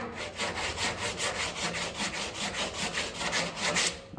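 Body filler on a car panel being sanded by hand with fast, steady back-and-forth strokes, close and continuous with an even scratchy rhythm of several strokes per second.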